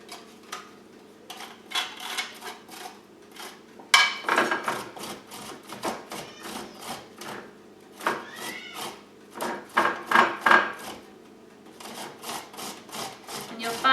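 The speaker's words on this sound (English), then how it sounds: "I've got the ginger all prepared, and I'm just going to grate." Fresh ginger is scraped across a grater in a home kitchen, making a close series of quick rhythmic rasping strokes in bursts with short pauses between them.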